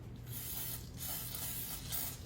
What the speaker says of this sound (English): Oh, my spray's not working very well.